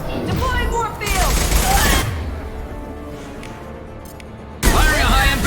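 Rapid bursts of weapon fire in the video game Mass Effect 2, loud and close, coming in two dense volleys separated by a quieter stretch of battle ambience, with voices faintly mixed underneath.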